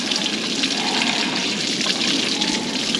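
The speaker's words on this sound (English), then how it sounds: "we'll dribble a bit of water under it and see what happens" Water dribbles under a sheep crutching machine during lamb crutching, a steady soft hiss and trickle running continuously without pause.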